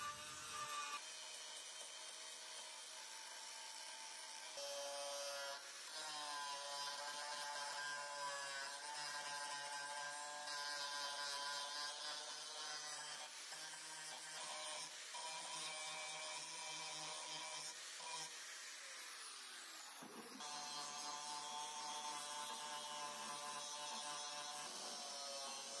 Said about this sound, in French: on va utiliser un disque à ébarder pour pouvoir enlever encore plus d'acier et se rapprocher vraiment de nos lignes